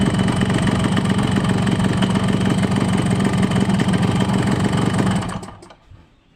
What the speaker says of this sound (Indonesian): Mohon maaf untuk suara mesinnya sangat kasar sekali ya teman-teman